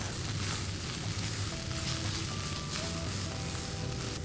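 Ginger, garlic and chopped coriander sauté in a pan, producing a loud, continuous hissing sizzle with no breaks or talking.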